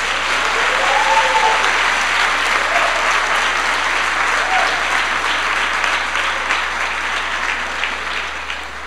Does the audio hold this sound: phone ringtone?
no